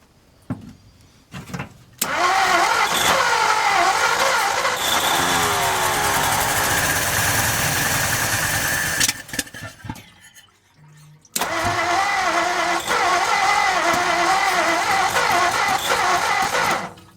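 A 1955 Ford F250 engine idles loudly with a busy mechanical ticking and whirring as its lifters pump up, cutting out briefly near the end before rumbling on again.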